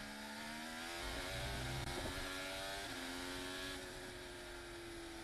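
A Formula 1 car on a push lap at the Abu Dhabi Grand Prix gives a high-pitched, buzzing engine scream with shifting revs. It sounds faint and distant over a steady background wash.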